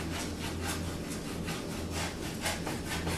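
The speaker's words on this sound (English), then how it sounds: "really getting down in there and scraping the bottom of that pan" While mushroom and arugula risotto cooks, a spoon scrapes the bottom of the pan with a steady, close rasping, in rhythmic strokes that repeat without pause.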